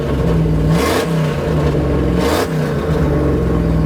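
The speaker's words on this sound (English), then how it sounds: "Go ahead and give it some revs. Give it a few revs." A new Ford Bronco engine idles with a steady low rumble, then revs up sharply twice, the roar swelling and falling back each time.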